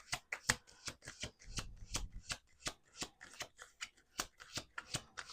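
A deck of cards is shuffled repeatedly, with rapid papery riffles and sharp clicks coming in quick bursts, quiet and close.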